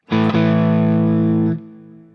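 A single sustained electric guitar chord, played with a split-coil pickup, rings out loud with heavy distortion, held steady for over a second before being cut off, leaving a faint fading tail.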